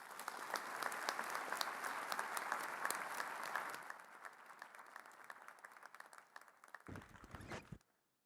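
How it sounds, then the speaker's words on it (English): Audience applause at a College of Medicine of South Africa graduation ceremony in Johannesburg, a dense sustained round of clapping from a large crowd that thins out and fades near the end. "Can we please give her another round of applause?"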